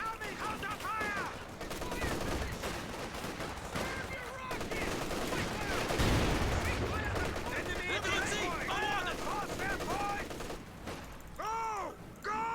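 Machine gun fire in a video game: rapid, overlapping bursts of gunfire run throughout at moderate distance, mixed with shouted in-game voices giving orders.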